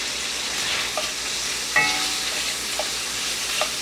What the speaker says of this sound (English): I love the smell of beef bacon cooking.